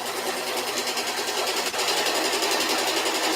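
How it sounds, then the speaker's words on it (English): A sewing machine runs nearby while a slip is being sewn, with a loud, continuous rapid mechanical whirring and chattering stitch rhythm and no break or talk. "If you can hear us over the sewing machine."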